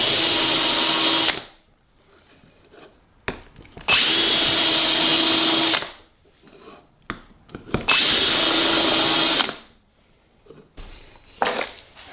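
A power drill countersinks rivet holes in an aircraft flap drive rib, with three loud bursts of whirring cutting, each about two seconds long, separated by quiet gaps with small clicks and handling knocks.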